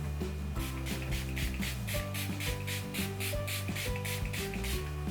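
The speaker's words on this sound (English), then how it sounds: "And then you spray it on your face." Rapid, evenly spaced spritzes of a makeup setting spray bottle misting onto a face hiss over steady background music.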